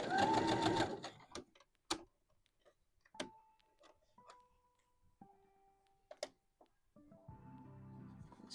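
A domestic sewing machine stitches two pieces of dress fabric in short bursts of rapid mechanical clatter separated by pauses and faint clicks and ticks, heard close and alone.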